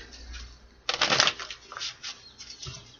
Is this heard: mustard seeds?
no